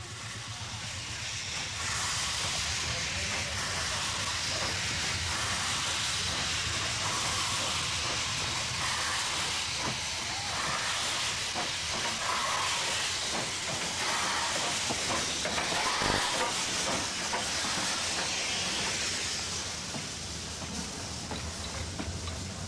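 A train in India pulls in amid a loud, steady wash of steam hissing, with a low rumble and faint clicking of railway wagons running beneath it throughout.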